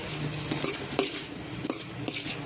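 Paneer fried rice is tossed and mixed in a pan, with a spoon clinking and scraping against the metal in an uneven rhythm over a faint sizzle, close up.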